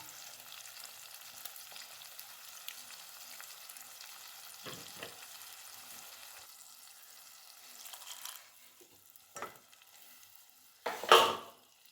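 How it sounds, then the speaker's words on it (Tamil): Ground masala paste for a Tamil mushroom gravy fries in oil in a pan, a soft steady sizzle with light stirring scrapes and a few louder clatters near the end, no talking. "அதையும் நல்லா எண்ணெயில் வதக்கிடணும்."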